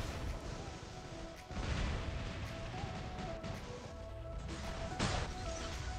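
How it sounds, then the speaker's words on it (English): Robots in the War Robots Mk2 video game fire on each other and set off explosions. Two sharp, heavy blasts stand out among scattered impacts and mechanical rumble, all fairly quiet, with no talk. "he got me with the explosion"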